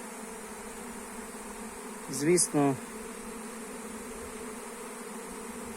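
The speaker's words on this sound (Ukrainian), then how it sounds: "Ось такий гул. Це невеликий рій." Steady buzzing hum of a small honey bee swarm clustered on a branch, continuous and close, with someone speaking briefly over it midway.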